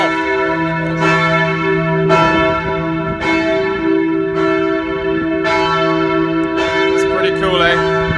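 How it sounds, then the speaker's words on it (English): Church bells of the Cathedral of Mother Teresa in Pristina, Kosovo, ring loud and close from the tower, strikes repeating roughly every second with long overlapping resonant hum. "it didn't stop them ringing the bells"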